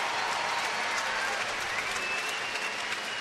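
Crowd at Camden Yards applauding on fireworks night during an Oakland at Baltimore baseball game, a steady wash of clapping and cheering from a large stadium audience that holds even throughout, with no talk over it.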